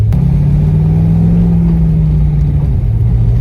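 A freshly built Corvette Z06 with a big cam and twin-disc clutch drives on the street, its engine giving a loud, steady low rumble throughout with a slight rise and fall in pitch.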